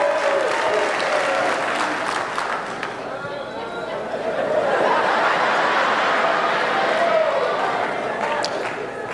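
A comedy show audience claps and whoops in a sustained, loud burst of applause mixed with laughter and chatter throughout.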